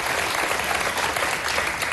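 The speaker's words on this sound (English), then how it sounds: "Don't applaud that." Studio audience of a live morning talk show applauding, a dense, steady burst of clapping filling the room, loud and close with no talk over it.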